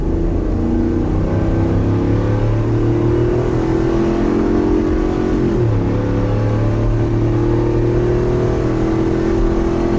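Truck engine pulling an RV along a highway, a steady loud drone with a low hum and constant tire and wind roar throughout, one brief dip in pitch midway as the load shifts.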